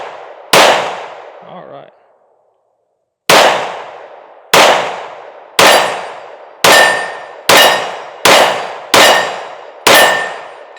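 Smith and Wesson M&P Carry Comp pistol firing: nine sharp, loud shots with ringing tails, a single shot, a pause, then eight in a quickening steady string, with a brief spoken word near the start.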